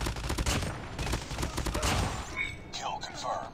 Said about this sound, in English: I don't know what I'm shooting at anymore. I'm just shooting.